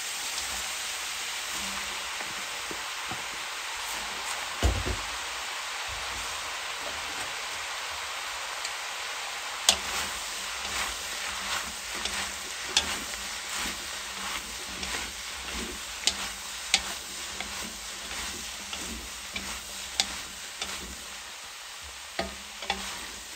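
Cabbage and salami stir-fry in a pan with a continuous crackling sizzle like rain, punctuated by frequent scraping and tapping stirs, close and fairly loud, with no talking.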